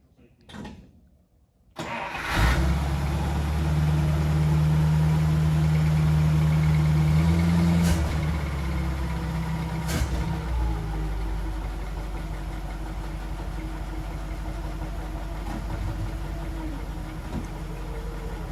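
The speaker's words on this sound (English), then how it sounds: "So go ahead and fire it up and let's see if it'll back up." An abandoned 1950 Pontiac engine cranks briefly, then catches and settles into a loud, steady idle with a close, rumbling drone that eases slightly in level.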